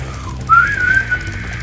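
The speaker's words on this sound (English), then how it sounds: "As you can hear, my whistling is not the best." A person whistles a short, wavering note that rises and then holds briefly, close and clear over a low, steady background hum.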